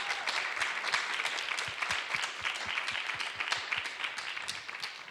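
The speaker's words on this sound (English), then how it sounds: "can we get a riotous round of applause for Miss Michaela Angela Davis?" A room of audience members claps for Michaela Angela Davis at a panel on Black hair and glamour, a moderately distant mass of applause with individual sharp claps standing out, sustained and tapering slightly at the end.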